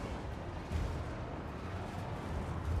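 Dense, continuous gunfire and rumbling battle noise from a Total War: Warhammer 2 fight, a steady roar of musketry and cannon-like bursts blending together at moderate loudness with no voices.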